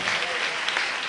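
Church congregation clapping in response to a Tamil sermon, a brief dense burst of many hands applauding together, close and fairly loud, with the preacher's voice mixed in.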